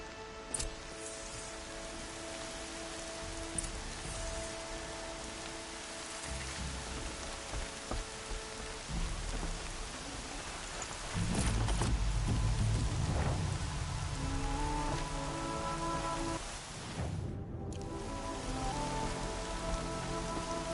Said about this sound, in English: Storm's been in the air for a while.